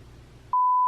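A timer gives a single steady electronic beep, loud and clean, starting a 10-minute countdown right after a moment of quiet room noise.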